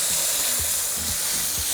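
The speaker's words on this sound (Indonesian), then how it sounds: "Tumis bumbu sampai aromanya keluar" Spices sizzle and crackle in a hot pan as they are stir-fried, a dense continuous frying hiss with soft rhythmic scraping strokes of stirring beneath it.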